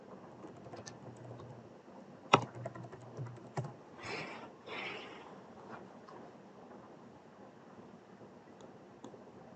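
Computer keyboard typing as a Laravel PHP Artisan command is entered, a run of quick close key clicks with a couple of louder strikes and brief bursts of rustle, no voices.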